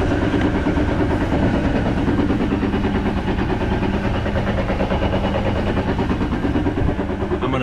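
A Jeep Wrangler with a drivetrain fault grinds and rumbles in gear, a loud, continuous, close roar with a rhythmic, train-like clatter that never lets up.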